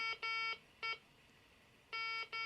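An electronic beeper sounds in bursts of bright, harmonic tones, a long beep and a short one, pausing, then repeating in the same pattern, fairly quiet.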